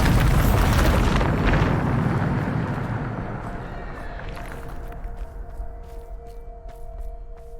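A Bombarda spell bursts in Hogwarts Legacy with a loud, broad explosive blast that slowly fades into a lingering rumble and tonal ringing.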